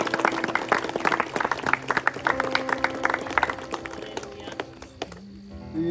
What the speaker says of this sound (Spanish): Dale un aplauso fuerte